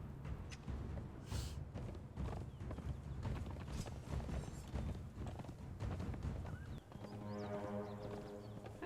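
Horse hooves pounding at a gallop in the video game Conan Exiles, a dense, continuous drum of clip-clops with a brief whinny near the start, fairly faint and without talk.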